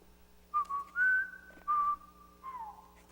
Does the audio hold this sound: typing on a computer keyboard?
no